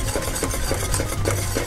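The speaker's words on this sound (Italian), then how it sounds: "Adesso dobbiamo continuare a mescolare" A spoon stirs thick chickpea flour batter in a pot for panelle, making a steady, rhythmic scraping and sloshing with regular strokes against the pot over a low background hum.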